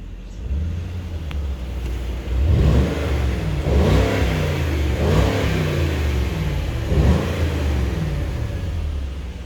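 A 2019 Mercedes-Benz S560 Cabriolet V8 revs up several times in quick succession, with deep throaty rises over a steady idle rumble, close and loud with no talking.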